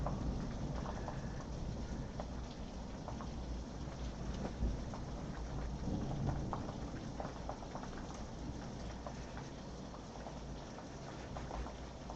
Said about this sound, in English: Can you hear the storm out there?